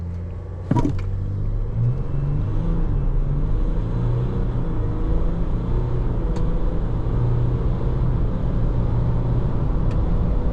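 A 2026.5 Ford Ranger Wolftrak pickup engine drones steadily and loud throughout during a 0 to 100 acceleration, its pitch slowly rising as it gains speed, with a brief click near the start.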